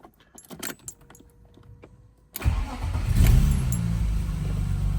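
A BMW M52 engine swapped into an E36 cranks and fires up, catching with a loud rumble and revving briefly before settling into a steady idle, preceded by faint key jangles.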